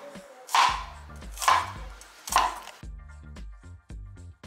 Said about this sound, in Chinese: 现在在切这蒜米